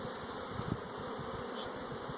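Honey bees buzz around a beekeeper at a swarm trap, a steady close drone with individual insects whining past, constant and fairly quiet without speech.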